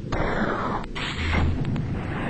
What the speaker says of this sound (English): It lets off a satisfying explosion